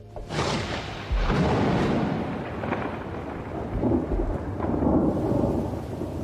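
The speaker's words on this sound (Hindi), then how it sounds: "बरसात आ चुकी है।" A thunderstorm over Kakadu rolls loud and close, with deep thunder rumbling and swelling over a steady hiss of heavy rain, a few sharper cracks standing out, and no voices.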